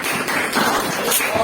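Classroom applause for group one, steady clapping from a room of students, dense and continuous with some voices mixed in.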